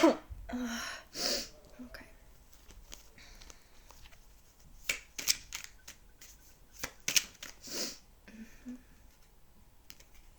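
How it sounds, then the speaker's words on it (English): A quiet room with scattered short breathy bursts and rustles, including a sneeze partway through, without talking. "I have to sneeze."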